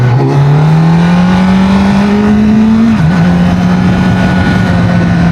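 A 2025 Kawasaki Z900 motorcycle engine revving close up, a loud steady drone that climbs in pitch, dips briefly, then holds a high rev alone with no talk.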